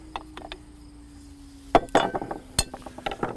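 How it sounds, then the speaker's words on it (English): Phillips screwdriver unscrewing the metal junction box cover on a wastewater treatment system blower, producing light scattered metallic clinks and scrapes, a sharper clatter near the end, all close and without talk. "Next, we're going to unscrew the junction box cover on the blower itself. Phillips head screwdriver."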